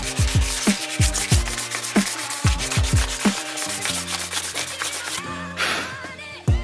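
Hand sanding of a car body with 300 grit sandpaper, a rhythmic series of close, raspy back-and-forth strokes at an even pace, then a steadier rubbing passage, alone without voices.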